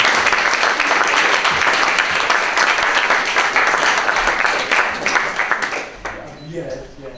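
A meeting audience at an AGM breaks into sustained applause, dense and steady clapping that fills the room and then tapers off toward the end.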